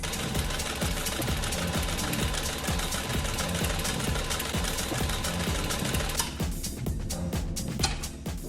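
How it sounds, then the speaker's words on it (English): A sewing machine stitches down the long edge of a tea towel, running with a steady close mechanical whir and rapid rhythmic needle knocking that slows and stops near the end. "I have just sewn down one edge, the long edge of my tea towel"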